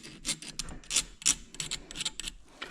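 Hand file scraping cast marks off an RC propeller, a series of short, close rasping strokes in an uneven rhythm, each stroke a brief gritty burst with small pauses between.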